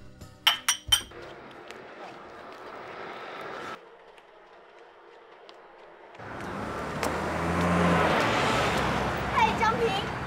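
Glasses clink together in a celebratory toast over a dinner, with a few sharp, bright chinks close by at the start, followed by a quieter room and a rising background hum.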